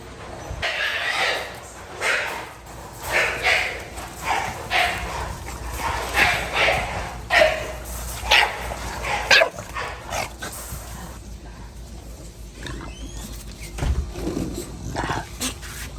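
Several dogs bark and yip excitedly at close range, in bursts that fade into quieter whimpers and occasional yaps toward the end.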